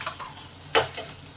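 Onion paste fries in a pan and is stirred, giving a soft, close sizzle with one quick scraping stroke of the spoon.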